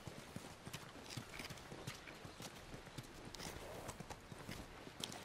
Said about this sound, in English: You guys have horses.